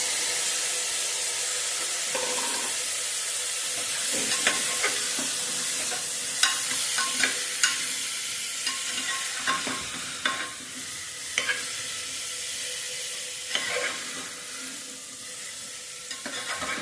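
Cauliflower and frozen peas are sautéed in a pot, with a constant frying sizzle broken by repeated scraping and clinking strokes of a spoon stirring the vegetables.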